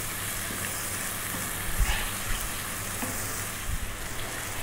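Tomatoes cooked down in a pot with salt, turmeric and spices for Ethiopian yellow split pea alicha sizzle steadily and thickly, with a couple of soft stirring knocks and scrapes.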